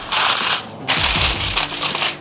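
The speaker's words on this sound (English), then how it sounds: "you want to cover with foil completely so that no steam escapes when it's cooking in the oven" Aluminium foil crinkles and rustles as it is pressed over pork for oven cooking, two loud close bursts of crackling with a short pause between.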